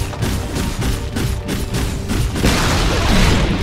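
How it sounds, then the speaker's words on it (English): A tower crumbles during a Dota 2 match, with booming impacts and thuds over a steady bed of battle noise, growing denser and louder toward the end. "Radiant's bottom tower has fallen."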